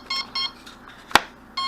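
A speed controller in an Air Hogs Titan converted to a four-channel RC plane gives a few short, bright electronic beeps at irregular spacing, with a single sharp click partway through.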